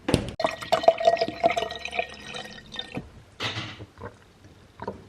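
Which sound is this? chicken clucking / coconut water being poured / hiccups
coconut water being poured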